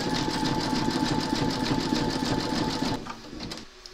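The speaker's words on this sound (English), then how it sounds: "we're now going to pop our hoop into our machine and stitch round number 7, and that's going to zigzag along here" A Brother embroidery machine stitches a zigzag round in a hoop, a fast steady mechanical chatter of needle strokes that runs loud and even for about three seconds, then drops and tapers off with a few last clicks.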